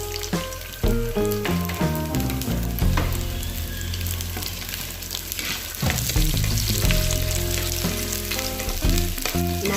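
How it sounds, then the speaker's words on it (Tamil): Urad dal and garlic sautéing in a pan for spicy tomato thokku, a loud crackling sizzle throughout with a steady run of spoon knocks and scrapes against the pan, no talking. "நல்லா வதக்கிக்கோங்க"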